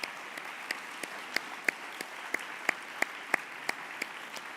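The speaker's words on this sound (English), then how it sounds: "So let's give them a big round of applause." Sustained applause from a graduation ceremony audience, a steady wash of many hands with a few sharper, louder individual claps standing out at a regular pace, moderately distant and without voices.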